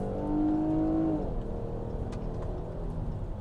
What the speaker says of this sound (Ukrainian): V6 двигун звучить надзвичайно приємно